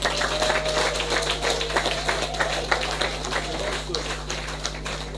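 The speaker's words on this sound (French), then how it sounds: "Est-ce qu'on peut l'applaudir?" An audience in a hall claps for a newly named ambassador: lively, fairly loud applause with quick individual claps standing out, over a steady electrical hum and with voices mixed in.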